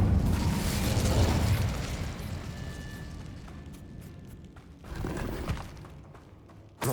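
Fire spell cast in Hogwarts Legacy, a loud burst of flame and crackling mechanism-like noise up front that tapers over several seconds, then a second smaller flare and a sharp pop at the end.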